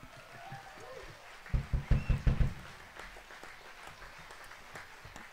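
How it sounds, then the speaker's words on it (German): Audience applause after a performer's turn at a burlesque musical show, a short burst of loud clapping and cheering rising for about a second then fading into murmuring crowd noise. "Grossen Applaus."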